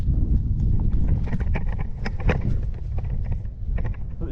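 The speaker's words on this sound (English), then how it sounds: "What's happening is it's gusting up 40 miles an hour and then dropping down to 0." Strong gusting wind roars across the mic on the shore of the Great Salt Lake during an attempt at kiteboarding, a steady loud rumble with buffeting bursts throughout.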